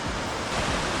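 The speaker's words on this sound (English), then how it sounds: "The waves aren't big, but there's kind of a lot of them." Small, numerous ocean waves wash and break steadily at Makah Bay, Washington, a continuous close surf roar with a slight swell in the middle.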